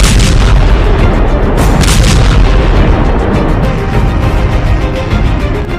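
Heavy booms and rumbling from an Iranian missile strike on an Israeli airbase, a loud continuous barrage of blasts and crackling with no voices.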